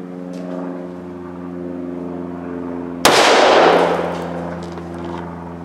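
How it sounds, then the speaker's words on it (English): A single loud, sharp gunshot from a 300 Blackout rifle firing a Sierra 150-grain soft-point hunting load cracks out midway, decaying over about a second against a steady humming background. "I'm gonna fire another shot."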